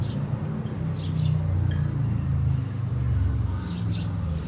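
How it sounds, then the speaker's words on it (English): A white car drives past outdoors with a steady low engine rumble and tire roar that swells and fades, while birds chirp faintly in the background. "Here's a white weirdo car"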